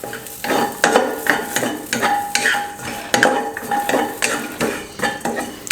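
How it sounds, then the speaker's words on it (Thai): Garlic and aromatics dry-roasting in a pan over low-medium heat for pork larb, with rhythmic metal utensil scrapes and clanks against the pan over a faint sizzle. "ตอนนี้คั่วมาจนอ่าสี่อย่างนี้สุกได้ที่แล้วนะครับ"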